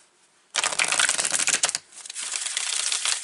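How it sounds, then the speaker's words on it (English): Tarot cards are shuffled and pulled in a loud, dense riffling burst, followed by a softer, steady stretch of card shuffling, close to the microphone with no talking. "let's pull some more cards here"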